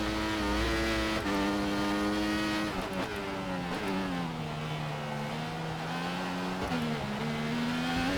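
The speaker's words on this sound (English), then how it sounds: "I'm sure the fact I'm pegged on the rev limiter the whole time has nothing to do with it." Formula One car engine in the F1 2014 video game held on the rev limiter, a steady high-pitched droning whine with small stutters and dips, loud and continuous throughout.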